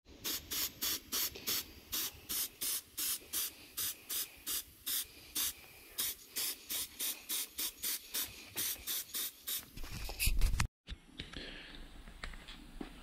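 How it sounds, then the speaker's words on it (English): Primer sprayed from an aerosol can onto a car throttle pedal in a run of short, sharp hissing bursts with brief gaps, ending in a louder rumble and a sudden cut. "So I'm going to give it a quick coat of primer and then spray it silver."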